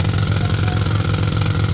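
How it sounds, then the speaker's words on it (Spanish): A pneumatic jackhammer breaks up concrete during renovation works at the Santiago Bernabéu stadium, pounding loud and close in a continuous, dense rattling roar with no pauses. "Están con ese martillo neumático picando todo este lugar."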